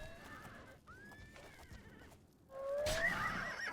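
A horse in the video game The Elder Scrolls IV: Oblivion whinnies loudly as a troll attacks it, a rising neigh after a quieter stretch of game ambience, with clip-clop hoofbeats nearby.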